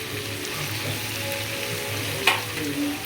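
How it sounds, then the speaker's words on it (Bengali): Masala for a Bengali crab bhuna frying steadily in a pan, a continuous oily sizzle with light scraping of a stirring spoon and one sharper clink near the end, close and fairly loud. "এখন মশলাটা আমি আরও ভালো করে কষাবো"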